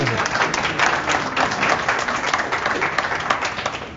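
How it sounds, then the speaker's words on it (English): An audience at a talk on exercise for people with spinal cord injury gives a steady round of applause, many hands clapping densely and evenly from start to finish, with little talk. "Yeah, an applause."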